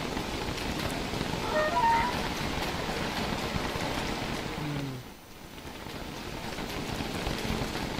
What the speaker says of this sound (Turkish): Ama bu yağmur artık durmalı yani.